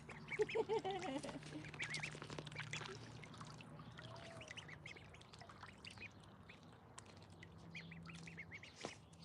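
Ducklings peep in soft, high chirps, with a few louder calls early on and quieter scattered peeping after that, over a low steady hum on a homestead.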